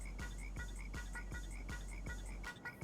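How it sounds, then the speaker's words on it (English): A frog croaks in a quick, steady rhythm of short pulses, several per second, with crickets trilling alongside at night-time levels, fairly faint overall. "Frog."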